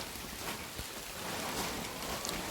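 Heavy rain pours down steadily outdoors, a dense, constant hiss with no break and no voices.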